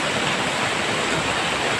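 A flooded river roars with a strong, fast current, a loud, constant rushing wash of water filling the whole short stretch without pause.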